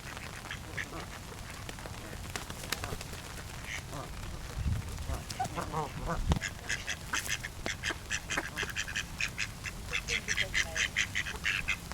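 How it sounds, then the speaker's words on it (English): Ducks quack in a continuous, busy chorus, fairly close, with overlapping calls that grow denser toward the end and a voice speaking over them. "apparently some of you really missed the ducks"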